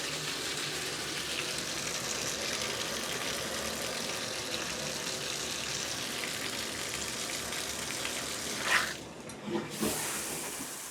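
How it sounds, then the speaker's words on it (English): Water runs from a tap in a house during a home inspection, a steady, even hiss, with a couple of brief knocks near the end and no talking. "So running some water."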